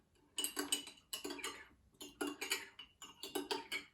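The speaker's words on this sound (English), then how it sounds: "Gonna go ahead and stir until your cocoa mix dissolves." A spoon stirs hot cocoa mix in a mug, clinking against the sides in four quick bursts of rapid taps with short pauses between, close and fairly quiet.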